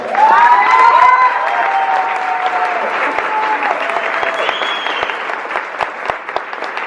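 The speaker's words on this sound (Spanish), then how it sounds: "le pido un aplauso para él" Crowd at a restaurant opening breaks into loud, dense applause with some cheering, holding steady throughout while a tonal whistle-like sound glides above it.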